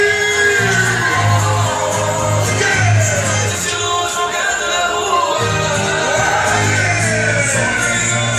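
Crowd at a cattle fair rodeo in Goianésia shouting and whooping loudly, a continuous dense roar of many voices with amplified music or announcer audio mixed in.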